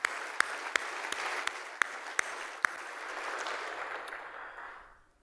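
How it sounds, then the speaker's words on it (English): Steady crowd applause at an ICAST fishing industry breakfast, dense clapping sustained for several seconds with a few sharp claps standing out, then fading away at the end. "Give them a round of applause."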